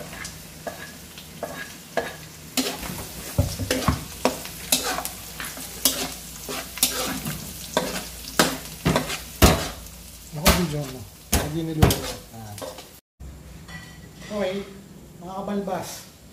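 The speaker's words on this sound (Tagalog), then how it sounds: "lagyan natin yung bawang." Ginger, then garlic sizzling in a hot pan while a utensil scrapes and taps repeatedly against the metal in an irregular stirring rhythm, close and clear, with a person speaking over it.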